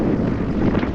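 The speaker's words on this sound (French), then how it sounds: "On a été obligé de changer de place parce qu'il y a presque 30 nœuds de vent." Strong wind of nearly 30 knots buffets a sailboat at anchor in a bay, a steady loud roar and rumble of gusting air pressing on the microphone with no pauses.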